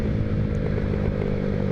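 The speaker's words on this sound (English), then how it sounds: "a little snap and a crackle from the exhaust there" A Honda Zoomer 50cc scooter runs at about 50 close up, its engine droning loudly and steadily with rough crackling from the exhaust and no talk.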